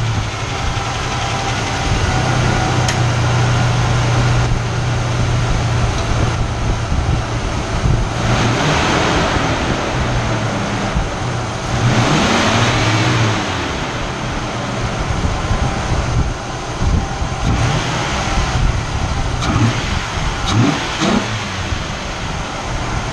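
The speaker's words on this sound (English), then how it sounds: "I just installed a cold air intake, so now I'm going to rev my engine a few times to show it off." First-generation Nissan Xterra with a VG33 V6 and a newly fitted cold air intake, running loud and close with a steady rumble and a few rises and falls in revs.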